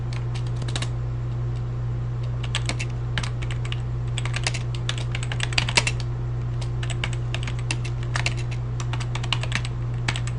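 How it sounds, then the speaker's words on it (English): Continuous typing on a computer keyboard, a rapid irregular run of close key clicks over a steady low electrical hum, with no one talking. "we're just going to go ahead and type in"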